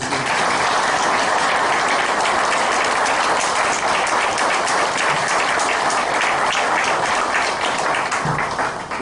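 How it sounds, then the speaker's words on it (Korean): A church congregation applauds the choir at a Sunday service, a loud, dense, continuous roar of many hands clapping that holds steady throughout and fades slightly at the very end. "다시 한번 성가대 감사의 박수."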